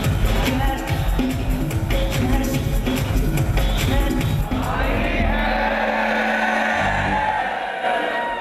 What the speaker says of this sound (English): I can hear the crowd